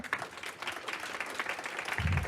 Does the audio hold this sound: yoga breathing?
no